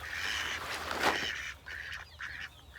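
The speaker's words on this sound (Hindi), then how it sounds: "बतख पार्टी चलेगी दोबारा से नहाने के लिए" Farm ducks bathe in a water tub. A burst of wet splashing is followed by several nasal quacks nearby.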